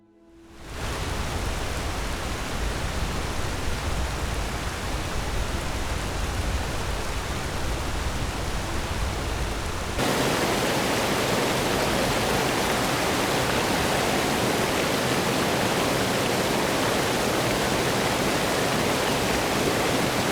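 A continuous synthetic waterfall rush from water-effects software fills the recording, a dense steady hiss that shifts abruptly to a brighter, harsher texture halfway through.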